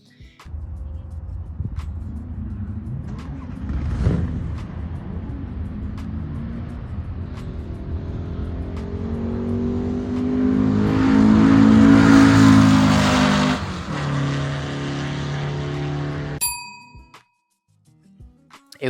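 A Volkswagen Beetle with a 180 hp engine and no significant engine modifications makes a quarter-mile drag racing run, the engine droning and rising in pitch through the gears, growing loudest mid-run before backing off and cutting out near the end.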